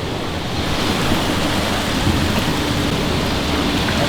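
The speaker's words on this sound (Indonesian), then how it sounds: "Gila ombaknya." Loud, steady roar of ocean surf with breaking waves washing in continuously, close and without pause, with no voices over it.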